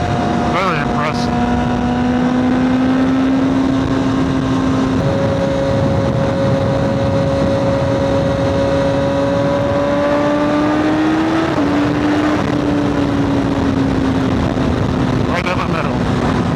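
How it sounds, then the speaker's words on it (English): A 2025 BMW S1000RR fitted with a new Arrow exhaust runs steadily at speed, its engine note climbing and then dropping with quick gear shifts, with constant wind rush throughout. "I love hearing the quick shifts with this exhaust on."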